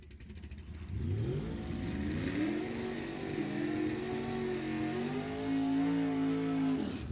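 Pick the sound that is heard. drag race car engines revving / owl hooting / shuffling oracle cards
drag race car engines revving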